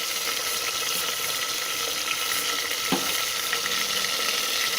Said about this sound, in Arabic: باش نضيف توا الطماطم، ملعقه كبيره طماطم تتقلى معاهم